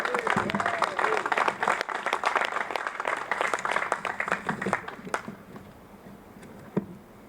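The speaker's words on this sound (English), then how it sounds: "Let's give it a round of applause for Mr. Collins." A rally crowd at the Black and Brown Unity event applauds Mr. Collins, steady clapping for about five seconds that trails off into a few scattered claps, with voices mixed in.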